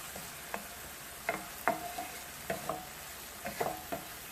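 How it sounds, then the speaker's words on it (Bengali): Chopped onions fry with salt in a pan over medium heat in a village-style kitchen, a quiet steady sizzle broken by about a dozen sharp scraping stirs at irregular intervals. "পেঁয়াজটা বেশি ভাজা যাবে না।"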